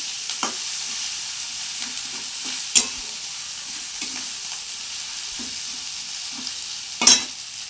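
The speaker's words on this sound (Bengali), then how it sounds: "দেখো আমি এখন কড়াইতে পেঁয়াজও তুলে দিয়েছি, পেঁয়াজ আর একটা গোটা বড় টমেটো কেটে দিয়েছি। এগুলো এখন ভাজা হবে" Onion, chopped tomato and turmeric frying in a wok, a steady close sizzle with a few sharp stirring scrapes, no talking.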